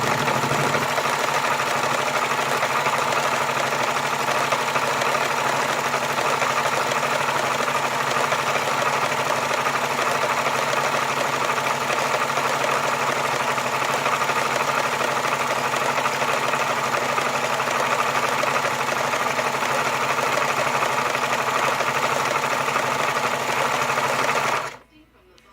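A Singer Stylist 776 sewing machine, freshly cleaned and lubricated, runs in one loud, steady, even whir for about twenty-five seconds, then stops abruptly.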